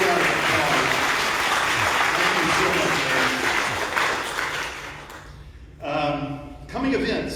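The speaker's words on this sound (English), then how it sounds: "Let's have a big round of applause." A church audience at Sunrise Presbyterian breaks into sustained, dense applause for their senior minister, dying down after several seconds before a voice starts speaking again.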